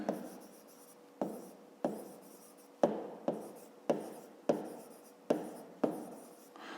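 Pen or pencil writing numbers by hand on paper during a fifth-grade maths exercise: a series of short scratchy strokes, each starting with a small tap, close and fairly quiet, with no talking.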